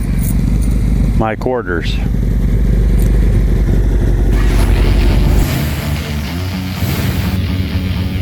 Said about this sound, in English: the bike's warming up